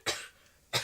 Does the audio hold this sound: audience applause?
no